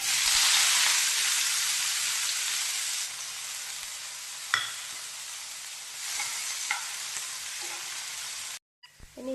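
Chopped onions and tomatoes go into hot oil with mustard seeds and fry with a loud, steady close-up sizzle that eases slightly, with a few faint utensil taps.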